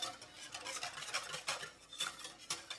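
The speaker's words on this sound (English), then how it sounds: "So I'm gonna keep whisking." A whisk scrapes and clinks against a pan as butter for lemon curd melts, in quick uneven strokes with faint sizzling beneath, close and moderately loud with no talking.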